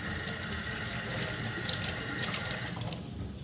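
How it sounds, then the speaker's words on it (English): Kitchen tap water runs over a spoon as it is rinsed in the sink, a close, steady hiss and splatter that cuts off near the end, leaving quieter residual noise, with no talking. "Rinse my spoon off."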